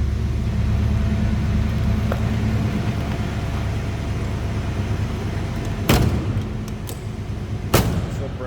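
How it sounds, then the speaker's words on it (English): A 1986 Ford Mustang GT with a 5-liter V8 idles with a steady, loud low rumble, nearby, broken by two sharp bursts or pops toward the end. "Sounds like you'd expect a box body 5-liter to sound."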